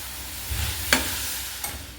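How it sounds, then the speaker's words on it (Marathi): Jaggery modak filling stirred in a pan over a low gas flame, a soft continuous sizzle with a couple of brief spoon scrapes against the pan. "आपल्याला हे सारखं असं हलवत राहायचं आहे मंद गॅसवर"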